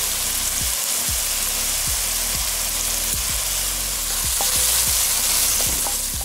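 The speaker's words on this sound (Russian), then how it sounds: "И сразу следом выдавливаем зубок чеснока." Onion and pressed garlic fry in a pan with a continuous close sizzle, and a utensil stirs and scrapes repeatedly at a regular pace.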